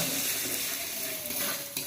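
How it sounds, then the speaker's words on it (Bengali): Two salted eggs sizzle loudly in a pan while being stirred for street-style chowmein, a continuous close frying hiss broken by light scrapes and clinks of a utensil against the pan. "ঘাটতে ঘাটতে ডিমটা ভাজা হয়ে গেল"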